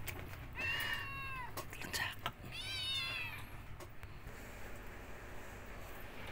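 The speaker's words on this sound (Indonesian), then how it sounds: "ini juga kucingnya Umi Afan" A cat meows several times, drawn-out high mews in the first few seconds over steady background hum, then quieter room noise.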